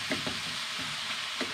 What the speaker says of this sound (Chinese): 葱稍微炒软之后，牛肉馅儿放入一半。